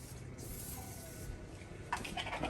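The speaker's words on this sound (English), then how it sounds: "I'm gonna use the cooking spray for my grill, which is a combination of olive oil and canola oil." Cooking spray of olive and canola oil misted onto ribs, two short hissing bursts, one near the start and another brief spurt close to the end, near and soft.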